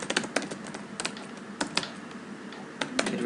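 Keystrokes on a computer keyboard as a networking command is entered, a steady patter of clicks with a few sharper taps, close and moderately quiet with no talking.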